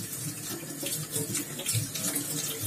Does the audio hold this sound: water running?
yes